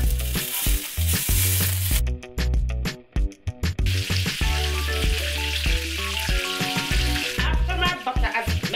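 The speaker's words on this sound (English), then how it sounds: "Then I'm going to add some butter to it as well." Butter melting and sizzling in a pot with extra virgin olive oil, a steady close frying hiss running throughout beneath rhythmic background music with a short break in the middle.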